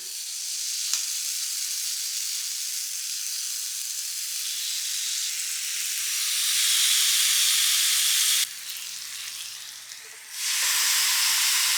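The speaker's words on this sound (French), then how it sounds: "Donc je vais venir tout simplement cuire mes petites brochettes." Vegan skewers sizzle steadily on a Tefal electric grill, a close, bright hiss that grows louder, dips briefly and then returns at full strength, with no talking.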